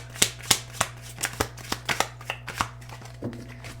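Tarot cards are shuffled and drawn, giving a run of about a dozen crisp, close card snaps and flicks at a fairly steady rhythm over a faint background hum, with no talking.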